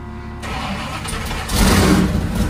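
A vehicle engine in a garage cranks and catches, then settles into a steady running drone that grows louder partway through, with no one talking.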